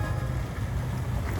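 A Sportsman motorboat of about 25 to 26 feet with dual 150 engines passes on the water, giving a low, steady engine rumble mixed with wind buffeting and splashing water.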